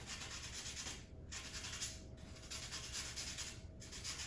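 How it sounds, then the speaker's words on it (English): Sandpaper rubbing by hand over a 3D printed Ghostbusters proton pack part, a steady raspy scratching in repeated back-and-forth strokes, close and alone with no talk. "If you do, you can just go ahead and sand them, like I'm doing here."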